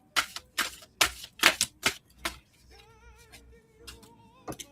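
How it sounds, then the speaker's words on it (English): Tarot cards being shuffled give a quick run of sharp, crisp riffling bursts, close and loud, then fade to quieter handling over a faint tonal background. "I just started shuffling the cards again."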